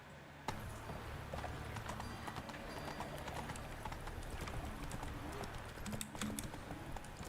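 A horse gallops in a video game horse race, with rapid continuous clip-clop hoofbeats over constant loud background game noise, steady throughout.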